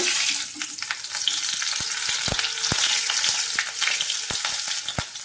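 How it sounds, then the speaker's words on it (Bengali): Four slit green chilies sizzle and crackle in hot oil for a fish and cauliflower curry, a steady frying hiss broken by sharp, irregular pops and spits, close and fairly loud with no talking. "চারটে কাঁচা লঙ্কা ফাটিয়ে দিয়ে দিচ্ছি তেলের মধ্যে"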